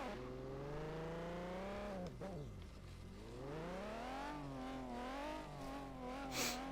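A motorbike engine in the racing game Forza Horizon 3 revs and whines with a strong rising and falling pitch, dropping sharply at shifts and climbing again. A faint squeal comes near the end.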